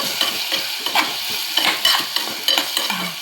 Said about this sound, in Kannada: ಟೊಮೆಟೊ ಹಾಕಿ ಎಣ್ಣೆ ಸ್ವಲ್ಪ ಫ್ರೈ ಆಗಲಿ